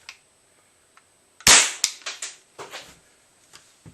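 A Benjamin 392 pump air rifle fires a pellet with one sharp, close crack, followed by a few quieter clicks and knocks of handling.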